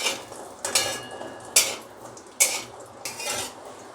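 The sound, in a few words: cashews and nuts frying and stirred in a pan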